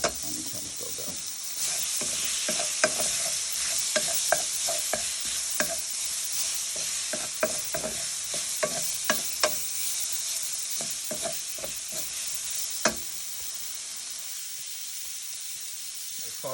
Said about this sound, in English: Sauteed the jackfruit, then I took it out the pot